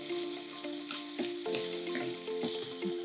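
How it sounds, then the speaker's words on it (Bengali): Steady sizzling of ginger, garlic and onion paste frying in a hot pan with occasional scraping and stirring clicks, close and continuous, no voices. "আদা রসুন বাটা পেঁয়াজ বাটা দিয়ে একটু ভাজা ভাজা করে নিয়ে"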